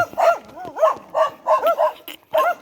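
A dog barks and yips in a quick series of short, close calls, with a whiny, whimpering edge between some of them.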